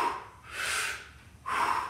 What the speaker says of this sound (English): Now you can take a breath in on the way down